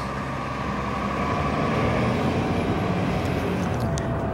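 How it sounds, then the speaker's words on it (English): A bus pulls away nearby on a road, its engine a loud, steady broadband rumble with rushing traffic noise and no talk. "There goes the bus."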